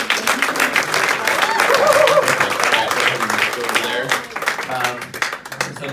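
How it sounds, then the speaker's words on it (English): An audience at a live hypnosis show applauds two volunteers, the clapping dense and sustained, while people talk over it nearby. "Give these two a big round of applause."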